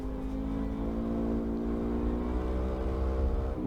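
A Harley motorcycle rides ahead on a road with a steady, droning engine hum, heard from behind by a following rider on a CB500 motorcycle, with continuous road and wind noise throughout.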